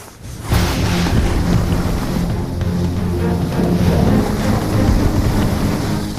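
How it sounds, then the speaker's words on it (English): Someone slides fast down a slope of wet, crusty snow in open wilderness, a loud continuous roaring rush of snow and wind buffeting that starts abruptly and stays steady throughout, with no voices. "I'm gathering pace on the wet, crusty snow"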